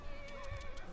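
A horse whinnies in a video game, a steady neigh with faint hoof clatter inside a pub where a cart and horses are stuck, carrying on for about a second with no talk.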